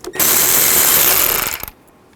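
A power ratchet on a 10mm socket whines steadily for about a second and a half while backing a bolt out of a 2007–2011 Honda CR-V headlight assembly, loud and close, then stops abruptly.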